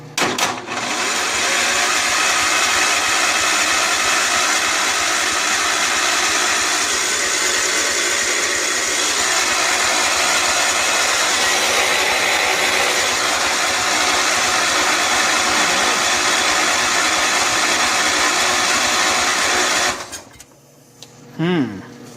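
A John Deere 140 H1 garden tractor engine runs steadily with its throttle opened slightly, a loud continuous mechanical drone that holds for about twenty seconds before cutting off abruptly, leaving brief faint sounds afterward.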